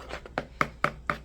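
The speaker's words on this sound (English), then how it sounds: "So we are mixing." Sourdough discard crumpet batter mixed by hand without a whisk, giving five or six evenly spaced soft slaps and thuds, close and fairly quiet, with no talking.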